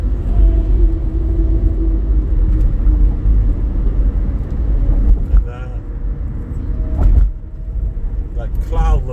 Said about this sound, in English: We are on the Williamsburg Bridge, driving from Manhattan into Brooklyn.